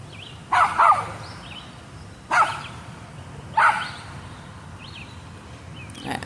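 A small yappy female dog barks in three separate bursts, the first a quick double, with pauses between, close and loud, with faint chirps in the background.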